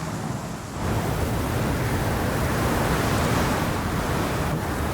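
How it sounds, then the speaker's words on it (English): Wind sweeps across a planet surface in the video game Star Citizen, a steady broadband roar that swells after the first second and then holds at a constant level. "Windy."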